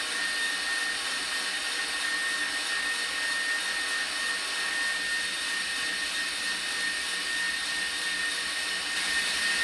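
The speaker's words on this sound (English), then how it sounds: "you want to beat it like that until it's good and foamy" Electric mixer at medium speed beating angel food cake batter until foamy, a steady, even whirring drone that holds at constant loudness throughout, close by, with no talk over it.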